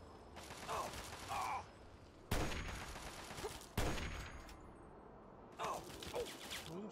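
Gunfire from Fallout 3's Anchorage add-on cracks in several bursts, each a loud sharp onset followed by a rattling, mechanical tail and a pause before the next volley.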